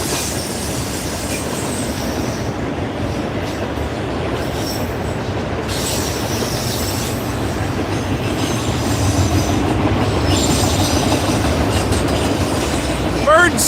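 A Norfolk Southern freight train rolls past a crossing, a loud, steady rumble of railcars and wheels with occasional squeals throughout, close by and continuous.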